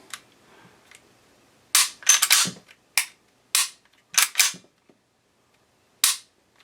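A Caracal Enhanced F pistol fires about ten sharp, loud shots in quick clusters with short quiet gaps between them, outdoors at close range.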